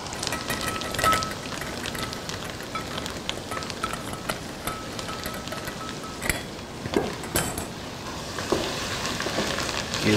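Vegetables sizzle and fry in hot roux in a pot for neck bone étouffée, a steady crackling hiss with scattered sharper pops and occasional stirring scrapes.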